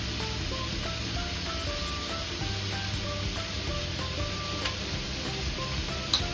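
Onion frying in a pan while cooking Kombdi Vade, a steady close sizzle running throughout with faint stirring scrapes and no voices.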